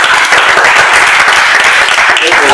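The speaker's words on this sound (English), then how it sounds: "Clap for me, please." An audience at a talk on multiculturalism and multilingualism claps loudly and continuously, a dense wash of many hands that holds steady for the whole stretch without pause.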